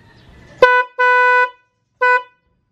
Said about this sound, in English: Okay, and here is the sound of the new horn.